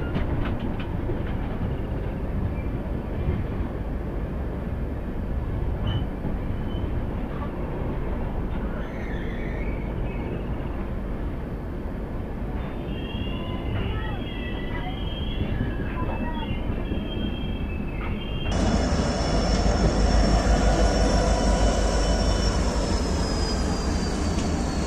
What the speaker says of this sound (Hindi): लेकिन ट्रेन जो है यहाँ पर लगभग 2:45 की देरी के साथ पहुंची है